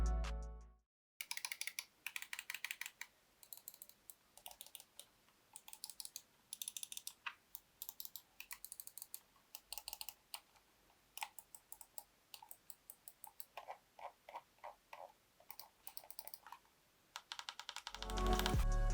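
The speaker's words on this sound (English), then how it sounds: "The mouse uses Titan optical switches, and this is how they sound." Titan optical switches on a Roccat Kone XP gaming mouse click sharply and closely, in quick irregular bursts of repeated taps separated by short pauses, with no talking.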